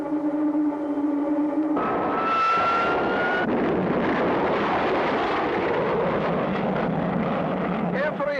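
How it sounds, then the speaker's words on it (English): In an animated space adventure, a rocket engine roars loud and steady as the first stage drops away, a dense rumbling thrust that takes over after a brief tonal hum and a sharp shift. "The first stage is about to drop off."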